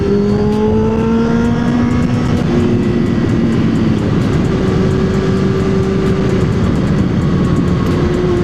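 A loud Yamaha R6 motorcycle engine drones steadily while revving, its pitch rising and falling, continuous and close, with no talking.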